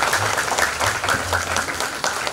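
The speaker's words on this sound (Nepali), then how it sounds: "जोरदार ताली बजाउँ सिक्किममा।" An audience at a season grand finale event in Sikkim applauding, with dense, continuous clapping that stays loud throughout the short stretch.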